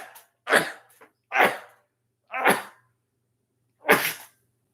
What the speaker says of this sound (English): I apologize for all the sneezing.